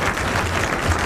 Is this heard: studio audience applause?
yes